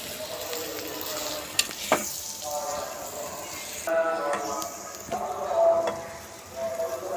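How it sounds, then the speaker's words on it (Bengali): Spices are stir-fried in a pan at an outdoor picnic, a lively crackling sizzle with scraping stirs and occasional sharp clicks while people talk nearby. "আর আরামনি এখন মশলা কষাচ্ছে"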